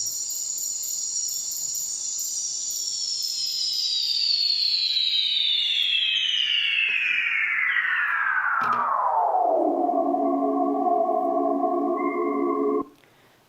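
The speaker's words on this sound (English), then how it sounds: "that was the sound of a Panama rainforest" Panama rainforest sounds slowed down heavily, a loud sustained chorus of insect-like tones that sweeps steadily downward in pitch into low droning hums before cutting off abruptly.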